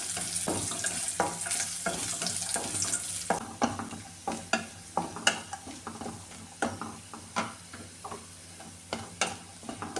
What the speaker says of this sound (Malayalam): ഇനി ഈ കാഷ്യൂവും മുന്തിരിയും കൂടെ ഒന്ന് വറുത്തെടുക്കാമേ.